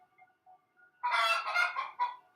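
A hen cackles after a phantom egg laying: faint soft clucks come first, then a louder, harsh burst of squawks and a final short squawk, close by with no talk.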